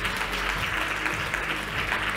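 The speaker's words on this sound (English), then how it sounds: "let's please welcome them to the stage with a round of applause" An audience applauds a panel arriving on stage at a green economy discussion, dense even clapping filling the room steadily throughout.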